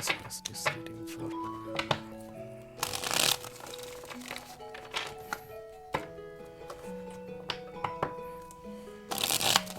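A deck of tarot cards is shuffled in repeated riffling bursts near the start and again at the end, with soft taps and card handling between, close and fairly quiet, over a faint background of music.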